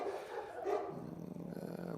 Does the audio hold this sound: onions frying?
no